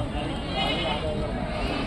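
A billy goat bleats at a busy livestock market, its cry rising over a constant hubbub of voices and crowd noise from people talking nearby.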